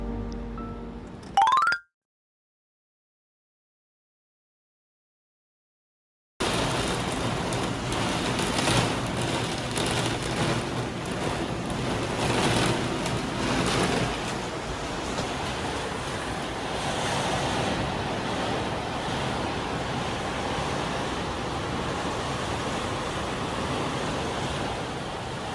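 A heavy rain and wind storm roars steadily outside a house, with dense rushing rain and gusting wind, loud and continuous after a brief silent gap.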